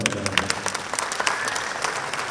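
An audience at a Kuvempu tribute cultural event claps to welcome a guest onto the stage, a brief burst of lively applause with distinct sharp hand slaps standing out within the steady clatter.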